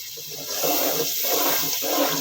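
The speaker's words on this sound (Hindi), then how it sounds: "पानी और डाल दें थोड़ा" Water splashes and rushes steadily into a frying pan of radish bhujiya with frying spices, a continuous gushing pour with faint sizzling underneath, no voices.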